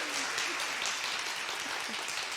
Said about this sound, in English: so we can be the first ones to give you a round of applause